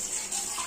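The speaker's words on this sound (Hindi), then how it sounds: "मम्मी यहाँ पे थोड़ी बर्तन धो रही थी" Tap water runs steadily into a kitchen sink while dishes are washed at home, a continuous close hiss with no talk over it.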